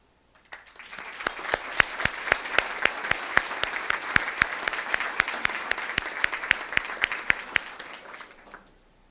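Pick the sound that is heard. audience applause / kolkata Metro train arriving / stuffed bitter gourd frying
audience applause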